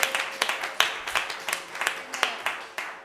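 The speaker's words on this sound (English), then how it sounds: "That's his proud niece clapping there." A proud young niece claps during a church worship service: a steady run of about eight sharp, close hand claps, evenly spaced and fairly loud, with no talk over them.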